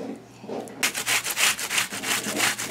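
A coconut is grated by hand, rough scraping strokes repeating in a quick, steady rhythm after a brief quiet start, close and fairly soft.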